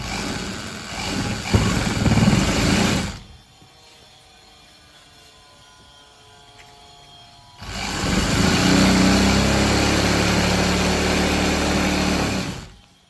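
A sewing machine runs in two loud, steady bursts while stitching salwar fabric, separated by a quiet pause of several seconds.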